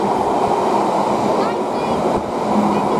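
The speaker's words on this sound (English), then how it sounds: "Let's have a freight crossover." A freight train rolls past at Rugby on the West Coast Main Line, a loud continuous rumble with wheel noise filling the whole stretch.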